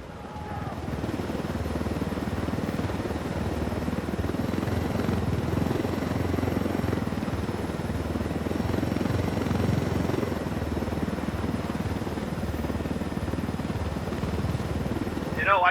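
A helicopter flies in the video game Ghost Recon Wildlands, its dense rotor and engine roar steady and loud for the whole stretch, with voices speaking faintly beneath it.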